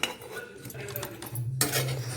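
A lid comes off a pot of tomato rice with a brief metallic clank and scrape of cookware, fairly quiet, followed by a low hum and soft rattling.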